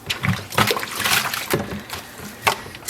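Water sloshes and splashes in a basin as soap is rinsed out of hand-dyed yarn, with irregular close splashes and trickles over a few seconds.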